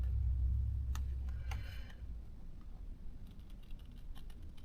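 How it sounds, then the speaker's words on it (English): Quiet, close scissor snips trimming paper edges: a couple of separate sharp clicks, then a quicker run of cuts, with no talking. "I'm going to take my scissors."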